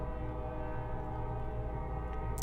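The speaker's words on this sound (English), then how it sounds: "that's a train horn. The longest train horn ever." A train horn blares in one long, unbroken tone, steady and droning at a moderate distance with no talking, in Columbus.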